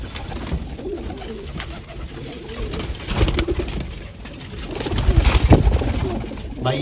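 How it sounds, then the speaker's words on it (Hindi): Soft, repeated female pigeon coos over a noisy, rustling background, fairly close, with some handling sounds and movement. "ये कबूतरी है, भाग कर आई है"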